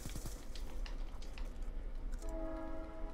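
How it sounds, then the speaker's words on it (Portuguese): A real train passes near a home, a rumbling roll of wagons with clattering noise, then a sustained horn sounding out clearly toward the end. "Estamos agora com a chegada do trem."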